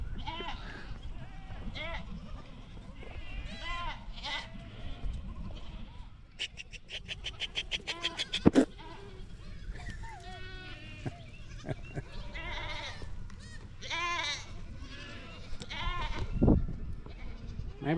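Mother goats and their kids bleat repeatedly outdoors, calls near and far overlapping in irregular bursts, with a person talking intermittently among them.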